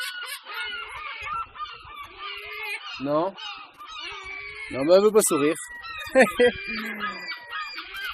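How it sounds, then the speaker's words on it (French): Large gulls call at Mont Saint-Michel in France, a series of loud, harsh honking cries clustered mid-clip, with people talking nearby throughout. "Non, c'est pas des mouettes. C'est des goélands."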